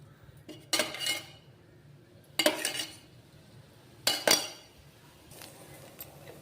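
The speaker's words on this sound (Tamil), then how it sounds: "தேங்காய் முதல்ல நெய் போட்டு வறுத்துக்கலாம்." Grated coconut roasting in ghee in a pan for red rice kozhukattai, heard as three or four bursts of metal spoon scraping and clinking against the pan with quiet pauses between, close and fairly soft.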